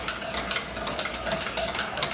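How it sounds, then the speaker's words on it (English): A spoon scrapes and stirs a flour mixture for chicken pot pie in a pot, a steady soft rhythmic scraping with faint clinks, no talking. "So this is stirred up pretty good."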